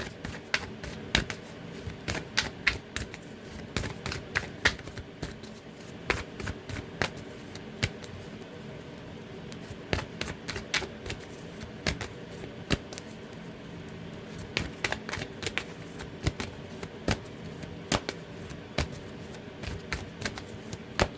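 Tarot cards shuffled over and over in quick riffling bursts, crisp and close, with short pauses between rounds and no talking.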